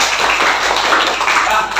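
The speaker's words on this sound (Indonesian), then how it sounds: "Ya, boleh tepuk tangan untuk Alika." A classroom of students applauds a classmate after she reads a poem aloud, a dense, steady wash of clapping lasting the whole moment without a break.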